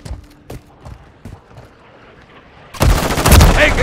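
Call of Duty gunfire: a few scattered shots at first, then a loud, dense burst of rapid automatic fire that keeps going to the end.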